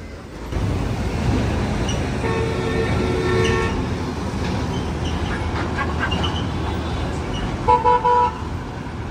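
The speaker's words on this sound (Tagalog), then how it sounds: "non-stop yung daanan ng mga truck dito" Heavy traffic rolls past on a busy road beside a demolished footbridge at Road 10 in Manila, a continuous roar of trucks and cars with a few horn toots, no one speaking.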